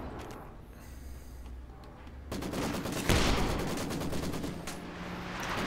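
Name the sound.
Maxim machine gun fire in video game Company of Heroes 2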